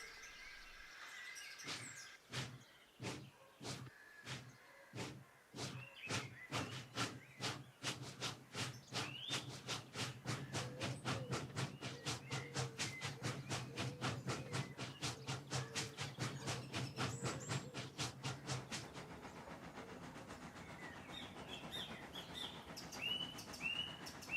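Rhythmic chuffing from a small steam tank engine starts slow and speeds into a fast, even beat, then fades, with faint birdsong in the background.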